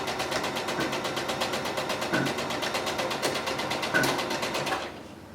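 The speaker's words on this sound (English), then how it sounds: "it works with the sewing machine a lot easier" Sewing machine stitching stiff mask fabric, a steady rapid mechanical chatter running close and continuous for several seconds before stopping abruptly near the end.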